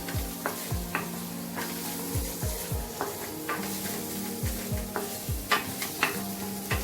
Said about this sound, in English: Saute it for a few minutes. We don't have to cook the diced capsicum and onion for too long.